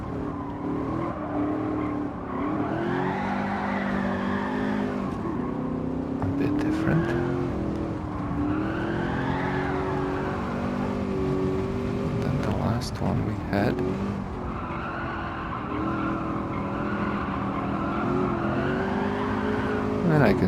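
A race car engine in the Gran Turismo 7 video game drones continuously, its pitch rising and falling through gear shifts, with brief tire squeals, while someone talks over it throughout.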